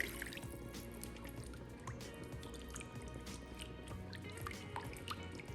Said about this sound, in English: Add in 1/2 cup of water